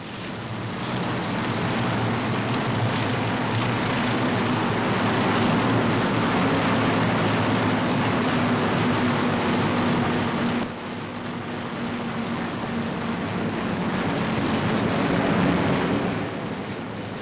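Steady, loud engine drone of propeller aircraft at a wartime airfield fitted with FIDO fog dispersal burners, a continuous roar with a low hum that dips briefly midway and then resumes, no voices.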